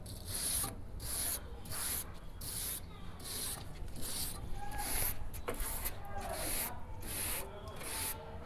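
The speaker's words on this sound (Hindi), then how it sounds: "ये मैं बाहर की तरफ इस पे ब्रश मार लेता हूँ।" A brush scrubs dust off the outside of an air conditioner unit during home cleaning. A dozen or so even, scratchy strokes repeat at a steady pace, fairly quiet and close.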